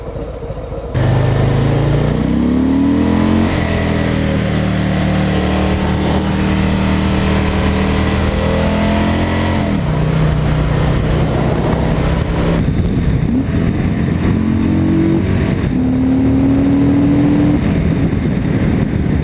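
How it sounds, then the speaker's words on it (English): A loud 2018 Harley-Davidson Fat Boy engine rumbles close by while merging, revving and climbing in pitch through several gear changes as it accelerates, steady and continuous throughout. "we'll cut to some merging footage for you guys to enjoy the exhaust note"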